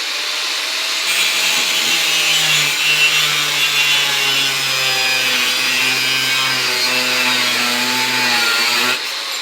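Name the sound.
cutting aluminum with a waxed blade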